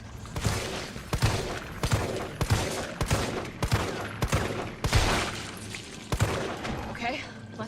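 Rapid bursts of gunfire in the video game Resident Evil 2 or 3, a dozen or so sharp, loud shots in an uneven rhythm over a dull game-world rumble, with a voice talking faintly in places.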